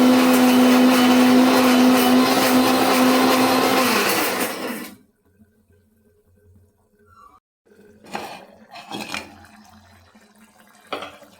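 A mixer grinder grinds onion and tomato for a peanut curry, giving a loud, close roar for about five seconds before cutting off, followed by quiet moments and a few faint knocks and clinks.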